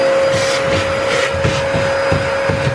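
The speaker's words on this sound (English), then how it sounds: "We're going to vacuum as much out of there as we can." A house vacuum cleaner fitted with a narrow attachment roars steadily and close while sucking lint from a dryer lint trap, with a constant motor whine and faint rubbing knocks as the nozzle moves.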